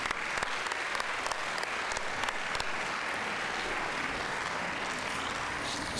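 An audience at a junior science fair awards ceremony claps for the stage guests handling the awards, with dense, steady applause from a large crowd that is sustained and fairly loud throughout.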